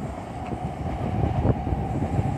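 A Hikari Rail Star Shinkansen, an eight-car N700 train, pulls away from a station and accelerates, with a loud rolling rumble and rising whine that build steadily, heard close and with no voices.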